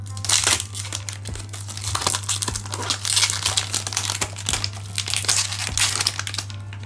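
Pokémon Champion's Path booster pack wrapper torn open by hand: continuous close, loud crinkling and crumpling foil plastic with sharp rips and crackles over a steady low hum, no talk.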